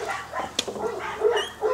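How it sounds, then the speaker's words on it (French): Dogs yap and bark in short, sharp bursts at close range, with a few high yips and whimpers between them. "les chiens arrêtent pas de japper"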